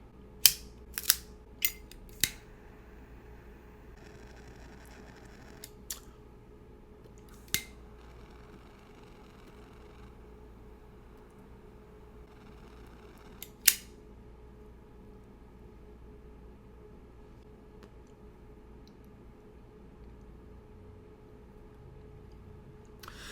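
Sharp scattered clicks and snips from cutting and lighting a Caldwell Blind Man's Bluff cigar, a handful of close, distinct transients spaced through otherwise quiet room tone with no talking.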